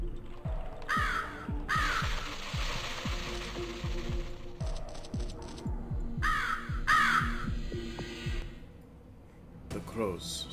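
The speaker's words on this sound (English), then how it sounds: "The crows smell death." Crows cawing in a video game, repeated harsh caws in short bursts over a rhythmic low mechanical pulsing, with speech-like game sounds briefly mixed in.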